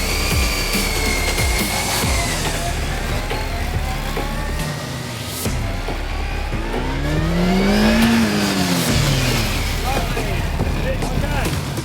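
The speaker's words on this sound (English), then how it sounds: "You've got a nice smooth transition between coming off the throttle from accelerating and onto the brake" A motorcycle at stoppie school accelerates hard, its engine note climbing steadily, then falls away as the rider shuts the throttle and brakes, all loud and close under wind rush.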